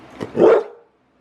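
A puppy gives one sharp, loud bark close by, with a short yip just before it, then silence.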